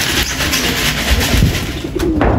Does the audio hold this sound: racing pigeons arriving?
yes